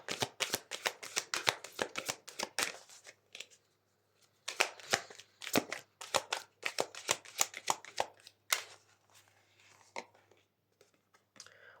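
Fairy tarot cards being shuffled in quick crisp bursts of riffling and flicking, close and fairly quiet, with a short pause midway and no talking.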